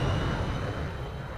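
An F-100 jet's engine in an aerial combat video game gives a steady low roar with broadband hiss that stays even and fairly loud through the short stretch, with no voices.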